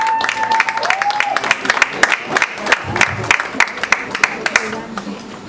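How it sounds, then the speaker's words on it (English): An audience at an International Women's Day poetry performance claps in scattered, uneven bursts, with a few cheers, while someone speaks over the clapping. "A round of applause, please keep clapping."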